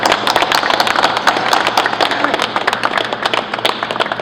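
Audience clapping at a press conference for the 2017 Turning the Tide recipients, a steady dense patter of many hands sustained throughout, loud and close.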